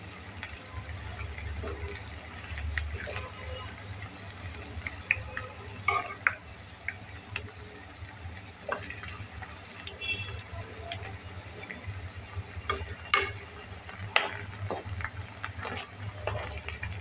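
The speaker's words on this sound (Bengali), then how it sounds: "দেখো বন্ধুরা, কত সুন্দর মুচমুচে আমার পাকোড়াটা ভাজা হচ্ছে" Cauliflower pakoras deep-frying crisp in hot oil while being turned over, a steady close sizzle flecked with small pops and crackles that runs on without a break, no voices.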